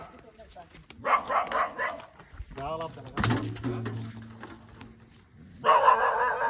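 Dogs bark in short, loud bursts, with a thin whimpering cry between them, while people talk nearby.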